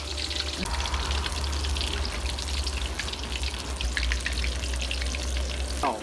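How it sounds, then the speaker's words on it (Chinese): Flour and egg coated bullfrogs deep-frying in oil on low heat, a steady close crackling sizzle with fine popping bubbles, continuous and even from start to finish. "小火慢炸。"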